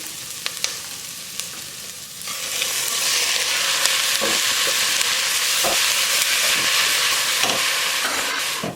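Ground turkey hits a hot pan and sizzles loudly and steadily, with occasional scraping and stirring knocks over the crackling.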